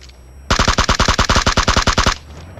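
Rapid automatic gunfire in a shooter video game, a loud burst of about fifteen evenly spaced shots lasting under two seconds, heard close and alone.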